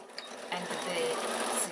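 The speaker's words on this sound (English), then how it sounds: "we're going to start sewing where that point is there to the end" A sewing machine stitches a seam on a quilted evening bag, a short quiet burst of rapid mechanical whirring close by, with talk over it.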